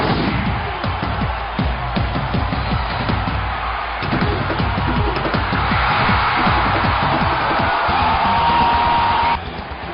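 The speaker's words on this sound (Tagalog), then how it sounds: "Tuloy ang hiyawan ng mga fans pagdating ng set 3." A volleyball match crowd roars and cheers in a loud, sustained wash of noise, with drumming and bangs rising through it and a whistle near the end.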